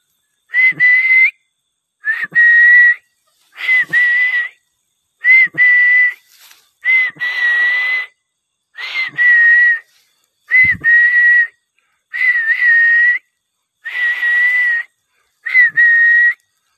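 A person whistling in a pine forest, ten separate loud sustained single-pitch whistles spaced evenly with short silent gaps between them, close and clear.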